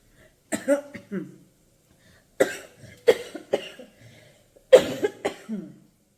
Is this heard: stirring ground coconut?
no